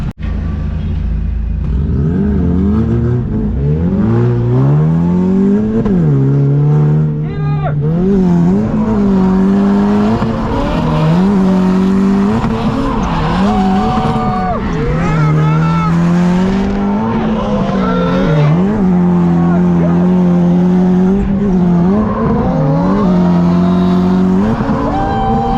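Ford Fusion drift car at a competition, engine revving hard and bouncing off the limiter while tires squeal through long slides, loud and continuous with brief voices mixed in.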